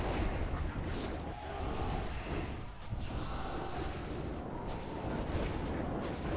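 Repeated blasts rumble through a raid battle in an online game, overlapping booms and sharp cracks forming a constant, heavy roar with occasional brighter hits, while quiet voices murmur beneath.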